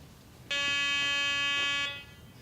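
A Garrett PD6500i walk-through metal detector sounds its alarm on a razor blade, a single loud steady electronic buzzing tone lasting under two seconds and then cut off, with no talking.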